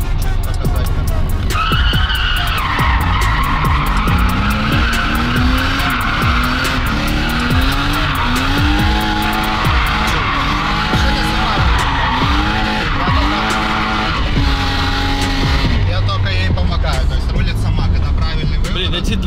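A VAZ 2102 taxi with a 2.5 engine drifting, with loud sustained tire squeal and skidding over a revving engine that rises and falls continuously for about twenty seconds, with some voice underneath.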